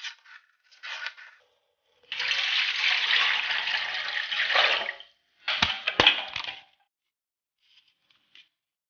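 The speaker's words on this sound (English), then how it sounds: "pour the cold water on top" Cold water poured in short splashing bursts, then a longer steady stream, onto a candle-heated phone-charging contraption, close and alone with no talk.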